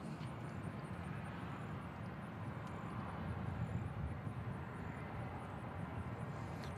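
A Boeing 737 MAX 8 airliner lands at Nashville International Airport, a steady, fairly quiet broadband jet roar held at an even level throughout, with a slight swell midway.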